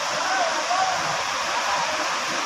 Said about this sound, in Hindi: ये जो पानी आ रहा है झरने का